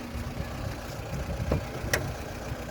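A 2012 VAZ 2114 car's 1.6-litre engine idles steadily at low volume, a soft rumble with a couple of faint clicks and no speech.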